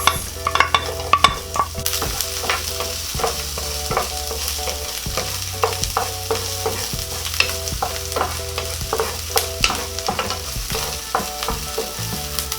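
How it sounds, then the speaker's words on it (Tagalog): Onions with browned garlic frying in a pan, a continuous close sizzle broken by frequent scraping stirs of a utensil against the pan, with no one speaking. "Ngayon po ay nag light brown na tong ating bawang, so isusunod ko na po itong sibuyas."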